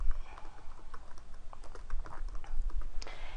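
Someone types an answer on a computer keyboard, a quick run of soft, close key taps with an irregular rhythm and no talking.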